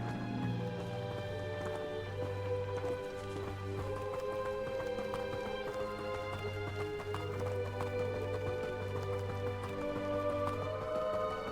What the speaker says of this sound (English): I've always thought Thestrals pulling a carriage a bit grim.